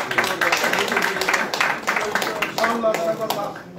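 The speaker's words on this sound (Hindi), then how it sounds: "शाबाश, तालियों से स्वागत।" Audience clapping in welcome at a political gathering, a busy patter of hands running throughout beneath a voice speaking over it.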